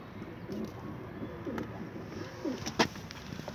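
Pigeons coo softly in a breeding coop, a few low rolling calls at moderate distance over a quiet background hum, with a brief sharp knock near the end.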